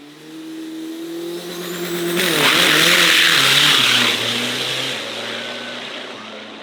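An Isuzu 4JJ turbo diesel dragster truck at a Thai drag strip accelerates hard, its engine note stepping up through gears with a loud burst of rushing noise mid-run, then dropping back as it passes.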